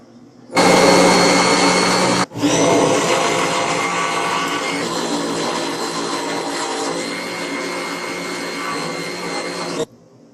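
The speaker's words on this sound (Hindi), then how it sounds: "अब हम इसे ग्राइंड करेंगे।" An electric grinder loudly whirs while blending a cooled semolina and milk dessert, cutting out for a split second early on and then running steadily for several more seconds before stopping.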